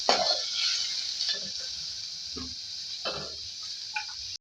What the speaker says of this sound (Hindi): इसमें हम घी में डालेंगे अपनी गाजर, तो फ्राई करेंगे।